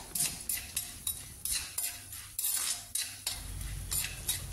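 Chana dal, urad dal and mustard seeds frying in oil for a drumstick leaf pickle, stirred with a metal spoon that scrapes the pan in regular, close strokes over a faint background sizzle.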